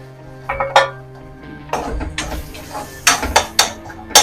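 Metal spoon scraping and clinking against a pan while tomatoes are stirred into mutton masala for mutton thokku, several sharp clanks and scrapes, close and fairly loud, no talking.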